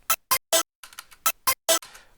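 Short, dry synth stabs with no reverb tail: seven sharp, punchy chords in a choppy rhythm, each cutting off abruptly into silence, with one softer, more diffuse burst in the middle.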